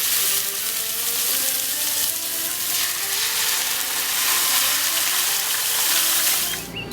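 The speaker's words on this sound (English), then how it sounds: "Listen to it sizzling." Roasts searing in olive oil in a hot pan inside a backyard pizza oven, a loud, dense, unbroken sizzle that holds steady throughout and fades slightly at the very end.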